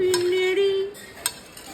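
A spoon clinks and scrapes in a bowl while potato stir-fry and spices are mixed into leftover dosa batter, a ringing metallic tone at first, then two sharp taps close by.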